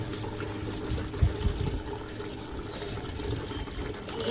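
Water runs and splashes steadily while fish is being cleaned, a continuous close trickle and pour with a few louder splashes, no voices.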